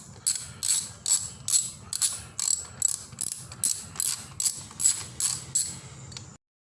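An 8mm socket wrench ratchets while loosening a bolt on a Kawasaki Versys 650 during a sprocket and chain change: about fourteen evenly paced bursts of crisp metallic clicking, close and clear, then silence.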